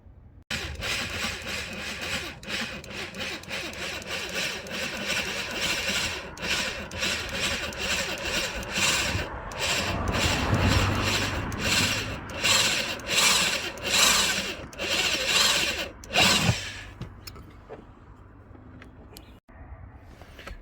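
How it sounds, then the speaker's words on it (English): Power drill boring holes through a Ford Focus Mk2 front panel to fit a bonnet latch conversion kit, a long steady grinding whir lasting most of the time with brief pauses, close and fairly loud. "and then let's drill the bottom one."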